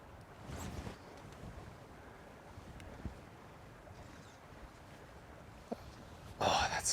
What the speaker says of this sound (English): Big gust came in right when I pushed forward.